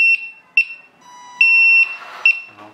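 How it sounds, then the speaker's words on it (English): Reversing warning sound from a 1/14 scale LESU MAN TGS RC hydraulic dumper truck, a series of sharp electronic beeps at uneven intervals with a brief lower tone between them, near and clear with no talking. "also when backward we'll have the warning light, you will see backward and warning sound"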